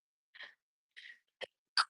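A person sneezes and coughs in four short, separate bursts over under two seconds, close but fairly soft, with no speech in between.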